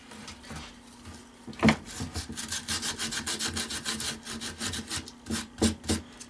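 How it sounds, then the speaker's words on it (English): Dry tree root wood is sanded by hand with coarse-grit sandpaper in steady back-and-forth rasping strokes, close and fairly loud, with a couple of sharper scrapes and no talk. "Now we're going to sand this down and try and get it back to the original grain."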